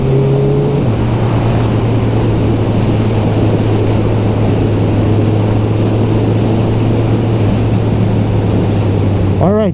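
Suzuki Hayabusa motorcycle riding on back roads, a steady loud engine drone with wind rush throughout, then a brief rising rev at the end.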